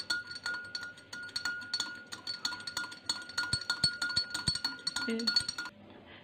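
A spoon stirs milk and sugar into Thai tea in a glass, with a rapid run of light clinks against the sides that slows and stops near the end, heard close and fairly quiet.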